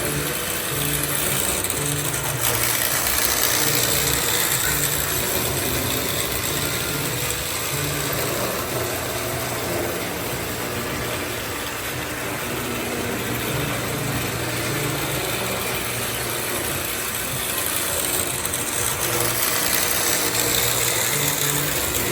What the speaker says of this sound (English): So let me get the train running and close out this video.